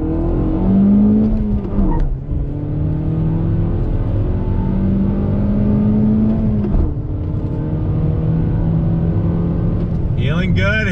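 A 2021 Toyota Corolla Apex with a 6-speed manual accelerates hard on throttle, its engine note rising steadily through the revs, dipping at a shift and climbing again, loud and continuous from inside the car.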